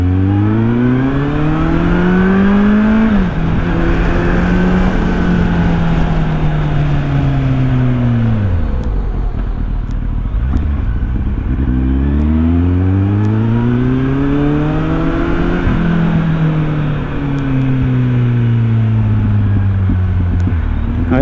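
Kawasaki Z800 motorcycle engine, about 13,000 km on it and running smoothly, loud and close while riding, its pitch rising through the gears and dropping on shifts in repeated sweeps.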